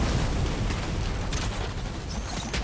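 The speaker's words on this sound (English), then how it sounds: "Takes out our overshield with the explosion of the car there." A car exploding in the video game Fortnite produces a dense, continuous roaring rumble of blast and debris, loud and sustained with no distinct onsets and no voices over it.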